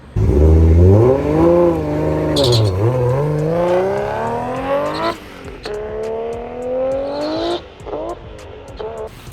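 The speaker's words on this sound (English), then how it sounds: "get the engine under some load and high RPM" A built Nissan RB25DET engine revs hard under load at high RPM, its rising and falling harmonic whine loud and close, dropping back near five seconds before climbing again, with no one speaking.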